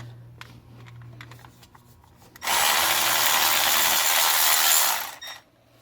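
Milwaukee 12V cordless ratchet whirring loudly for about three seconds as it spins out a bolt on a 58-year-old water pump, preceded by faint tool clicks and handling.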